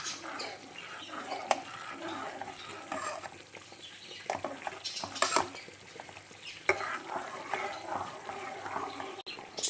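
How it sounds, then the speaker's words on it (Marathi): Green food colour mixed into a sabudana and potato filling for papad, heard as soft scraping and squelching stir strokes with occasional sharp spoon knocks, fairly quiet and close, alone without talk. "यामध्ये आपण ग्रीन कलर टाकून घेऊया हा संपला आहे आणि याला आपण असं मिक्स करून घेऊया"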